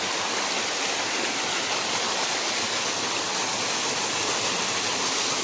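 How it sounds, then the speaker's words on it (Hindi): A waterfall pours steadily, a dense, constant broadband rush of falling water that stays close and loud, with no voices over it throughout. "झरना।"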